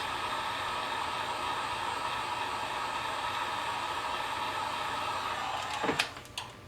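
A hair dryer blows steadily to dry paint on a 1:350 scale Klingon K'tinga Cruiser model kit, a close, constant whooshing roar that cuts off near the end with a few small clicks.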